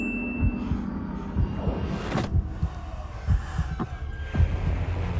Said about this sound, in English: so many of the suspenseful scenes have this heartbeat sound effect that gets us used to hearing it anytime